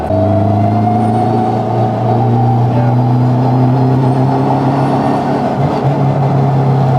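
Engine of a Honda Civic Type R FK8, all-wheel-drive conversion with a fault, held at constant throttle, giving a loud, steady, close drone with even tonal hum, no talk.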